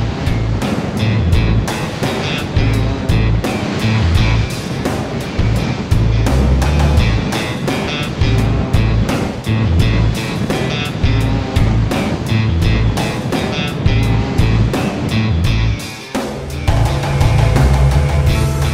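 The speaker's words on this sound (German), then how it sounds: "Jetzt schaukelt es schon ganz gut und wir sind froh, dass wir die Wellen nicht in Gleitfahrt nehmen müssen." Waves slap and rush against a motorboat slowed to displacement speed off the Danish coast, a loud, continuous churning of water and wind with no voices.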